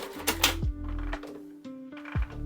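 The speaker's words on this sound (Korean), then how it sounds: "사절을 해볼게요." An industrial sewing machine's automatic thread trimmer cutting, giving a couple of sharp mechanical clicks and clacks over a low motor hum, close by with no speech.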